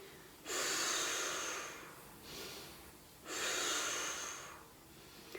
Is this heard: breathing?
yes